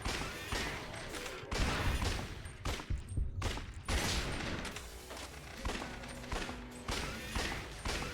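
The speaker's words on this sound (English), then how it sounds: "just keep shooting in the fucking head" Heavy video-game gunfire rattles in repeated loud bursts and thuds through the whole stretch, dense and close, with brief pauses between volleys.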